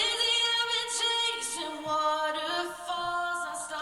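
A singing voice on a vocal track drenched in Pro R2 reverb at full mix, with sustained notes smeared into a washy, spacious tail, moderately loud and alone.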